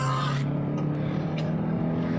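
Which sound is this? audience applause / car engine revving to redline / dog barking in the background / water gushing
car engine revving to redline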